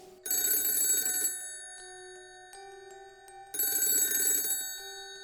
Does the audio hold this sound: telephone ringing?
yes